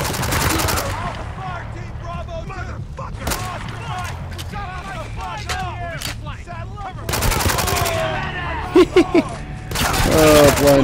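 Bursts of gunfire from blind firing in the war shooter game Spec Ops: The Line, rapid automatic shots crackling over battlefield noise, with heavier volleys near the end.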